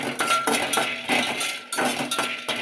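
Peanuts fry in a heated pan, giving a steady, fairly loud rattling and clinking as they are stirred and tossed, with no talking.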